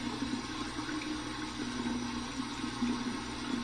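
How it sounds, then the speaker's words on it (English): Cold tap water runs steadily over an alum block held beneath the faucet, a continuous close rushing flow with a low hum underneath and no talking. "let's get my alum block here. We're under some cold water."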